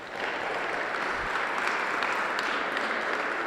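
Warm audience applause for a string quartet at a poetry reading in Duluth, steady clapping from a crowd sustained throughout at moderate volume.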